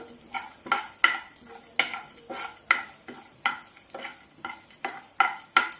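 A spoon scrapes around a pan in a steady, regular rhythm, about a dozen strokes, over a soft sizzle of spices including cumin frying, with no talking.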